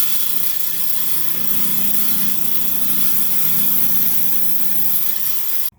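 A lapidary saw slices a thin sliver off a Lake Superior agate, giving a steady, loud grinding whine with a low rumbling undertone that runs evenly throughout and cuts off abruptly at the end.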